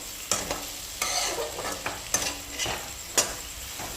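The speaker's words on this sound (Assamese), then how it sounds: "প্ৰায় মই 5 মিনিটমান সময় ভাজি লৈছোঁ" Mutton fries in a pan for a curry, stirred with a utensil: a steady close sizzle with several sharp scraping strokes at irregular intervals, no voices.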